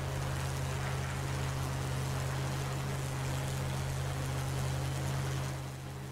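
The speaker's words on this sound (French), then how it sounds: "le bruit du moteur est quand même assez fort là" Steady, loud drone of a P-51D Mustang piston engine in the DCS World flight simulator, a constant low hum with broadband roar that runs unbroken and dips slightly at the end.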